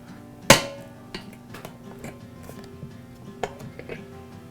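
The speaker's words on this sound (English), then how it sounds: "I'll use a pair of heavy-duty wire cutters, and I'll both squeeze and rock the clamp side to side until the end breaks off" Heavy-duty wire cutters squeeze and rock a crimped hose clamp on an air compressor until its end snaps off, giving one sharp, loud close crack followed by a few lighter metallic clicks and taps.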